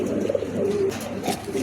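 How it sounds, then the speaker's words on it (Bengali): A Mondi-breed pigeon being offered for sale coos close by in a soft, repeated rolling pattern through the whole stretch, with no one speaking. "এখানে একটা মন্ডির একটা 6 পটের একটা কবুতর আছে"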